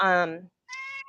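A cat meows twice indoors in a room, a loud drawn-out cry followed after a brief pause by a shorter, higher meow.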